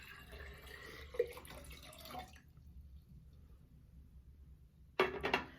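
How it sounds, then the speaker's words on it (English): Cold water poured into a jar with a faint splashing trickle, a gap of near silence, then a brief louder rush of liquid near the end; quiet and close, no talk. "we're going to add our cold water to our jar, and you're going to fill your jar most of the way"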